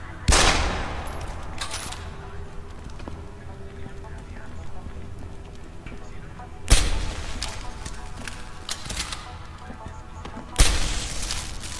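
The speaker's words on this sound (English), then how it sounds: "Let me just use a pistol shot." In Deus Ex: Human Revolution, a pistol fires three sharp, loud shots several seconds apart over a quiet game background, with someone talking faintly between them.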